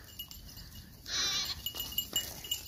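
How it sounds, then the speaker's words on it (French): Sheep bleating on a farm with goats nearby, one clear bleat rising above a steady background and followed by softer animal calls, fairly close. "Et là vous avez les moutons qui sont venus aussi"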